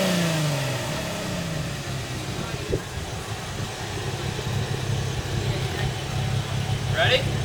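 A 2010 Camaro with a Flowmaster Super 40 exhaust revs close by: a falling rev opens, then a deep, throaty steady rumble holds near idle with a slight rise at the end.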